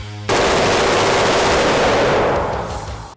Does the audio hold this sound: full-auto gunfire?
yes